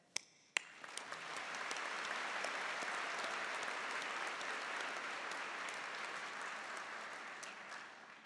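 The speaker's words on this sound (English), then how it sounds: "Let's keep that applause going as I announce today's platform party." A convocation audience bursts into loud, sustained applause after a couple of sharp claps, the dense clapping holding steady and full for several seconds before easing slightly at the end.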